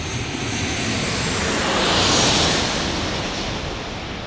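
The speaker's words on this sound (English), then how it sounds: "Southwest Airlines landing here." A Southwest Airlines plane lands in San Diego with a loud, broad jet roar. The sound swells to a peak as the aircraft passes, then eases off, with no speech.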